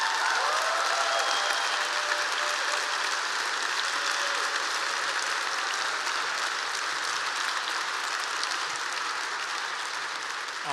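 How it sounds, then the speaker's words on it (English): A large audience applauds at an education leadership honors event, with loud, dense, sustained clapping that carries on evenly for over ten seconds with no talk. "they deserve a round of applause from you."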